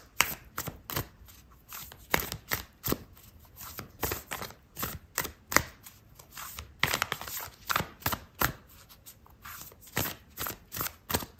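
Oracle cards being shuffled by hand at close range, a quick run of crisp riffling and slapping bursts in a loose, uneven rhythm.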